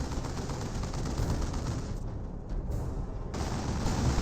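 Dense, continuous gunfire from a Dawn of War 2 battle, with troops shooting from a garrisoned building; loud, overlapping bursts and rumble fill the whole stretch with a slight dip midway and no talk.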